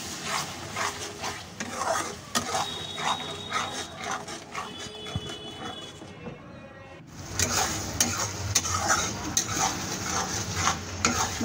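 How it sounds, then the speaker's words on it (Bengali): Spice masala frying with tomato paste over medium-low heat for a Bengali fish curry, a continuous close sizzle with frequent stirring scrapes, and a short quieter gap partway through. "টমেটো পেস্ট দেওয়ার পরে মশলাটাকে আবার ভালোভাবে ভেজে নিতে হবে"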